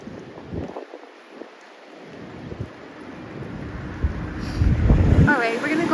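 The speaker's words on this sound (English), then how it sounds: "The wind doesn't help." Cold wind blows steadily by a lake, roaring and buffeting the microphone and building toward the end, with faint voices beneath.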